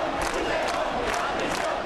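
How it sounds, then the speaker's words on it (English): A protest crowd chants at a rally in Madrid, a dense mass of voices rising and falling in a steady rhythmic cadence, heard from within the crowd and fairly loud throughout. "the crowd chants"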